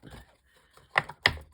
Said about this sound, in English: bang the corners around a little bit